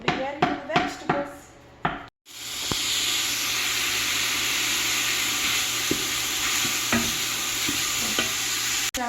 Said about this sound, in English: So all we're doing is just chopping up that package of sausage. We're going to let it fry